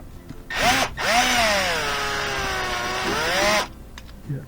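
Power driver with a Torx 15 bit backs out a screw on the rear of a Whirlpool front-loading washer's top panel: two close whirring bursts, the second a long steady spin of about two and a half seconds, near and loud.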